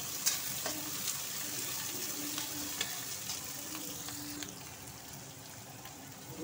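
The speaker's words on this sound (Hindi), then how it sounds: "प्याज डाल रहे हैं हम, प्याज डाल दिए हैं" Onions frying in hot oil with fenugreek seeds and panch phoron, a constant close sizzle and crackle with light stirring clicks throughout, no voices.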